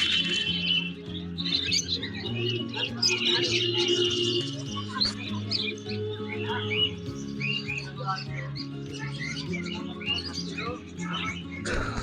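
Many small birds chirp and tweet busily from the bird shops of the Birnagar animal and bird market, over a crowd's murmur, high calls scattered throughout.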